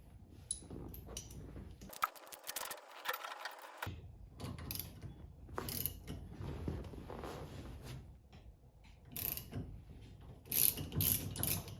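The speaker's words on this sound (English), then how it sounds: "So I'm gonna use a steering wheel puller here." A steering wheel puller is threaded and cranked on a 1955 Ford Thunderbird steering wheel, giving close, quiet bursts of ratcheting clicks and metallic scraping with short pauses between turns.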